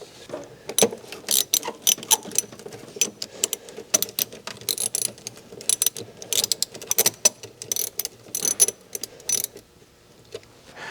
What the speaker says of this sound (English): loosen up the pipe clamp that's holding this grommet or gasket or hose or whatever that is